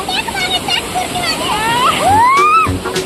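Water splashes and sloshes at an outdoor spot with flowing water at Mauli Killa fort while children and adults talk and exclaim over it, the splashing steady and fairly loud throughout.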